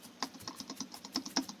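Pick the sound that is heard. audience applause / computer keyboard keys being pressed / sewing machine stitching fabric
computer keyboard keys being pressed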